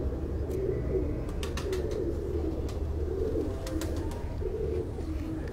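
Pigeons coo steadily on a rooftop in soft, repeated low calls over a constant background rumble, with a few faint higher chirps scattered throughout.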